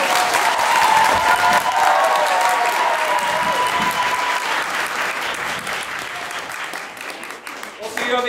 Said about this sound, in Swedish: Så testar vi lite applådkraft.